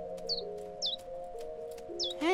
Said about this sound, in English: There's a bird building a nest in his mouth.